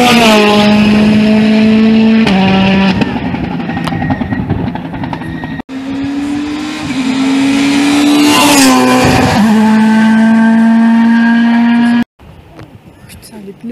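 A small rally car's engine revs loud and close in long sustained howls, its pitch climbing and dipping between gears before cutting off abruptly near the end.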